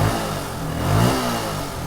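A Yamaha R15 v2 motorcycle engine revs close by in one short, rough burst that swells and then settles.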